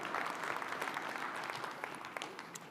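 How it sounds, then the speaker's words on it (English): Moderate applause from a conference keynote audience, a continuous patter of many hands with distinct sharper claps, tapering off slightly toward the end. "You can clap, that's okay"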